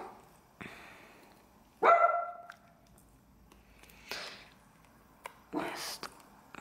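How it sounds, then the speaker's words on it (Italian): A dog barks a few times in short separate bursts indoors, with quiet room noise and rustling between the barks. "il mio cane."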